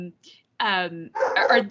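A dog barks twice nearby, loud bow-wow calls separated by short gaps, cutting into an otherwise quiet indoor setting.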